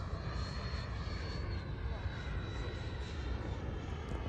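Engine of an RC model T-33 jet plane powering up in flight, a steady airy whine with a thin high tone, heard at a distance over wind noise and faint talk.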